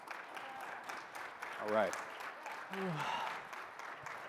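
A crowd claps steadily throughout as applause, with a person speaking briefly over it.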